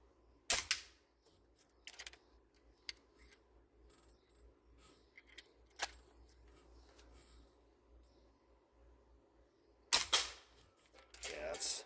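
Airsoft pistol shots fired at cans outdoors with a Hwasan/Farsan Target Series pistol: a few sharp, isolated cracks spaced seconds apart amid quiet, with a louder pair of snaps near the end and faint talk in between.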